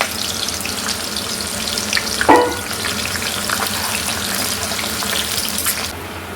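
Onion frying in hot oil, a steady broadband crackling sizzle at moderate level with a brief sharper burst midway, continuing without any voices.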